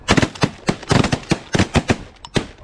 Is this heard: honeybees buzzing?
no